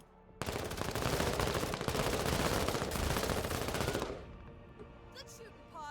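Video game gunfire erupts suddenly into a long, dense, loud automatic volley lasting nearly four seconds, then drops away to quieter ambient game sound with faint voices.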